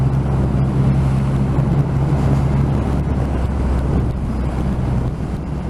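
A 2020 Triumph Rocket 3 2500 cc motorcycle riding fast on a test ride, dominated by steady roaring wind rush over the rider's helmet and a low engine drone, continuous and loud throughout.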